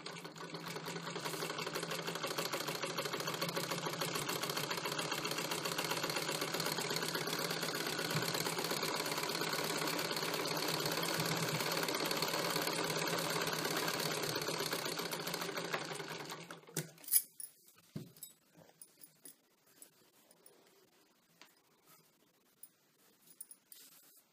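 A sewing machine runs steadily, double stitching a blouse for about sixteen seconds, then stops, leaving a few faint clicks and handling noises.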